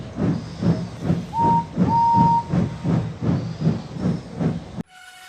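A steam locomotive chuffs steadily with rhythmic hissing beats while a short high whistle sounds twice near a signal box, loud and close, before the sound cuts off abruptly near the end, with no talking.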